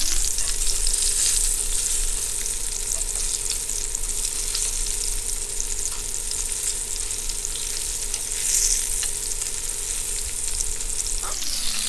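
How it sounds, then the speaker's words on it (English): Steady, close sizzling of cheddar-stuffed meatballs frying in a hot pan, a continuous crackle for the whole stretch with no talking. "I'm going to keep cooking my meatballs and stirring my sauce"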